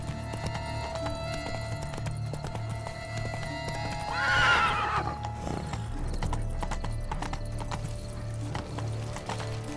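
Horse hooves clip-clop steadily in The Witcher 3: Blood and Wine, a close rhythmic trot with a neigh midway, while a voice speaks briefly over it.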